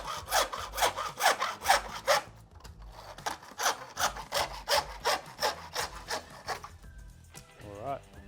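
Hand saw cutting through plastic pool pipe during a pool pump replacement, a rapid series of close, raspy back-and-forth strokes that pause briefly and then resume, ending with a faint voice.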